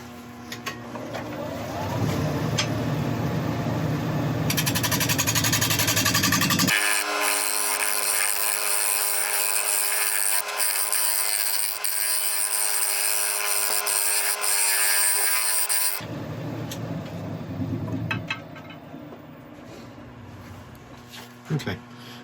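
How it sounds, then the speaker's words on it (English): A lathe spins a walnut workpiece while a scraper cuts it, producing a loud, sustained whirring scrape that runs steadily for several seconds, bracketed by quieter motor hum and occasional talk near the start and end. "I'm just going to quickly get my scraper out and sort out these tool marks"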